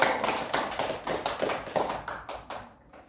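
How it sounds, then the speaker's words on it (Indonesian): A small classroom group of students claps during a micro-teaching session, giving a brief burst of close, rhythmic clapping that fades out after about three seconds. "kasih tepuk tangan untuk kelompok 1"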